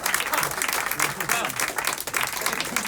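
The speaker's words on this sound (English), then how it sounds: "Feel free to applaud, sir, if you want to." An audience at a live Elizabethan-themed stage show breaks into steady, dense applause that fills the room, with a voice faintly mixed in.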